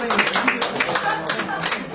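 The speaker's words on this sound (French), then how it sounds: "Par applaudissement, tapez." Audience clapping at a French-language comedy show, a dense patter of hands filling the room with voices and laughter mixed in.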